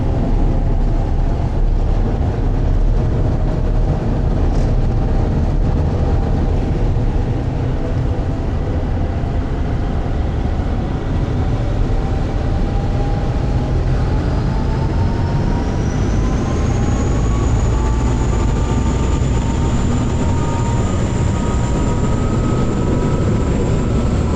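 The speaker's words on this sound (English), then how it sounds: "because the engines are extremely noisy" Loud, steady engine drone of a River Thames sightseeing boat fills the whole stretch, with a deep low rumble and a whining tone that slowly rises near the end, heard close and without talk.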